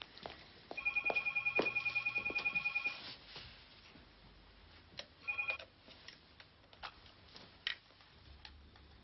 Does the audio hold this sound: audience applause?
no